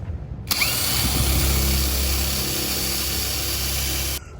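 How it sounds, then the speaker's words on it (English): A power drill boring holes into the hull of a 50-year-old yacht under restoration, starting abruptly with a loud steady whine that runs for several seconds before cutting off, with no talk. "drill holes in the boats"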